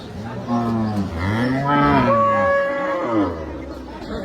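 A cow lets out a long, loud, close moo that rises and wavers, with faint background chatter around it.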